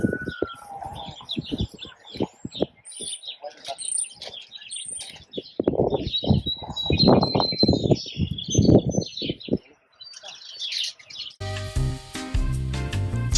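Small birds chirp and tweet outdoors in a run of bright, repeated calls over several seconds, with louder low rustling or handling noise midway and a burst of music at the end.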